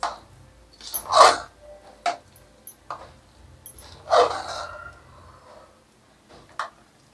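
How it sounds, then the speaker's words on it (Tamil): Tempering being stirred into venn pongal in a pot, producing a few scattered scrapes and clanks of a spoon against the vessel with quiet pauses between them, close by and with no speech. "இப்போ நம்ம தாளித்து இதில் சேர்த்துடலாம். இப்போ நல்லா மிக்ஸ் பண்ணி விடுங்க."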